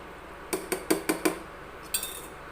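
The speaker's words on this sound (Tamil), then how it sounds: "நல்லா மூடி போட்டு வேக வச்சுக்கலாம்" Metal lid set onto a cooking pot of chicken chilli gravy, giving a quick series of five clinking knocks followed by a brighter scrape or clink after a short pause, moderately near with no talk.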